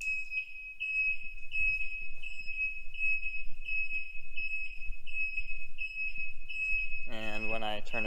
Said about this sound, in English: the beepers turn on when you turn on your signals